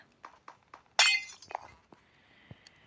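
Glass block shattering in Minecraft, a single loud crash with scattered tinkling fragments, set between a few soft clicks and thuds of block placement.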